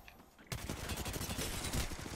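Video game gunfire bursts in abruptly after a quiet half second, a rapid, loud string of shots continuing to the end.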